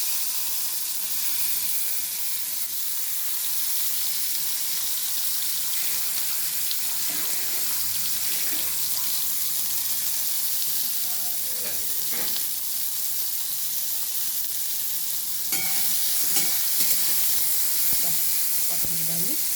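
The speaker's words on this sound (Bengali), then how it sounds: "আমি তেলের মধ্যে কালো জিরে দিলাম এবং আমি এর মধ্যে পটলটা ছেড়েছি। পটলগুলো ভেজে নেব।" Pointed gourd (potol) frying in oil with black cumin: a steady close sizzle and hiss running throughout, with occasional light clinks and pops and no talk.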